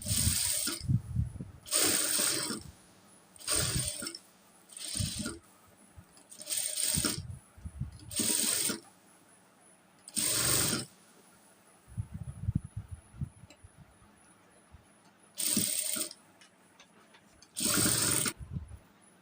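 A sewing machine stitches lace onto a nightie in short, rapid whirring runs, each lasting about a second and separated by brief pauses, close and steady with faint handling noises in between and no voices.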